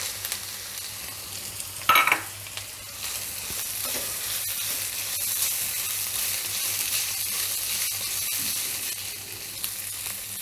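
Onion and ginger sizzle in a pan as a paneer vegetable Maggi is cooked, a steady broadband frying hiss with a sharp stir-and-clatter burst near the start and occasional soft utensil scrapes, close and alone without talk.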